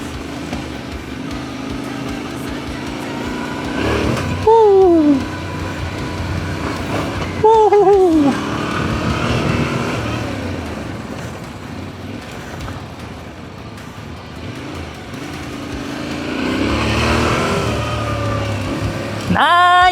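A 2026 Yamaha Tenere 700 motorcycle with a 21-inch front rim rides along an uneven road. The engine drones steadily, with a few rising revs as the rider shifts, and wind rushes past while the rider talks over it.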